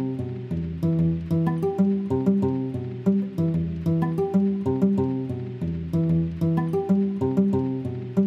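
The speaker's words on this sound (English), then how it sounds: "This is the ample guitar Luther." A virtual Ample Sound Guitar Luther picks a repeating melodic motif with steady plucked notes over sustained lower tones, the pattern cycling evenly and clearly without any voices.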